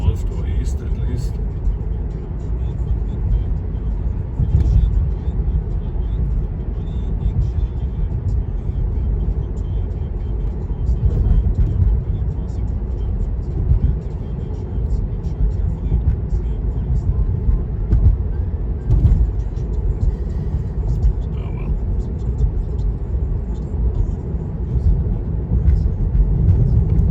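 A Tesla drives straight ahead on FSD beta 10.10.2. A steady, loud rumble of road and tire noise fills the cabin throughout, with no distinct events.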